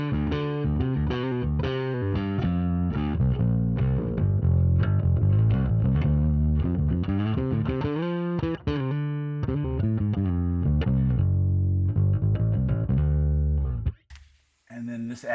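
Bass guitar through a driven, lightly gained preset on a Fractal FM3 modeler plays a steady run of notes, loud and sustained with a slight edge, before stopping abruptly near the end.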